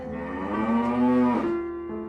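A cow moos in one long, loud, sustained low call with a pitch shift near the end, alone and close by, in a farm-animal scene.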